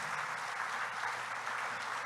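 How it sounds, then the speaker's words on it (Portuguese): A church congregation applauds during a sermon, a steady, dense round of clapping from many hands, moderately loud and unbroken throughout. "Dá um aplauso a Jesus."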